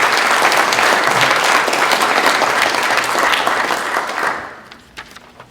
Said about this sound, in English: How about a round of applause for Mr. Kassabian?